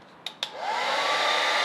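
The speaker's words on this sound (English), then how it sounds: "I gave it a good blast with the hair dryer for about 5 minutes" A hair dryer blasting air to clean an old Singer 239 sewing machine, two sharp clicks as it switches on, then a loud steady whooshing roar with a rising whine, alone.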